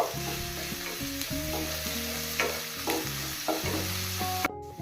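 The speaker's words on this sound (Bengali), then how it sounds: "তেলের মধ্যে দিয়ে দেবো এক চামচ রসুন কুচি এক চামচ আদা কুচি হালকা সতে করে নেব" Chopped garlic and ginger sauté in white oil in a pan for chicken hakka noodles, giving a continuous near sizzle with light stirring beneath a steady musical background and no voices.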